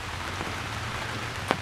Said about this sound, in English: We've been getting a lot of rain here.